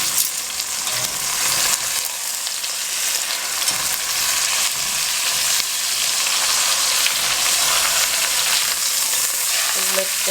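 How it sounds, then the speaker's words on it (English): A cranberry pot roast sears in a hot pan, giving a steady, loud broadband sizzle and crackle that fills the whole stretch with no talking, and a faint clink or shift near the end. "sear this on both sides. Now while this is cooking"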